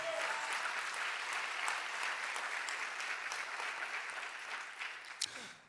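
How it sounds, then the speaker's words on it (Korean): A church congregation at a youth Holy Spirit gathering claps in steady, dense applause that holds for several seconds, then tapers off near the end with a few last claps. "주님께 영광의 박수 올립시다."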